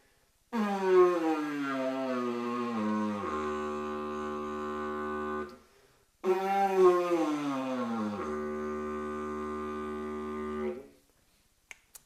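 A steady buzzing drone with rich harmonics, starting with a wavering pitch that settles onto a fixed, locked note; played twice with a short pause between.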